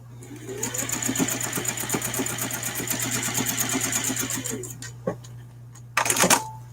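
A sewing machine stitches vinyl for an ID holder. Its needle taps out a rapid, steady rhythm for about five seconds, then stops, followed by a couple of brief clicks and handling noises.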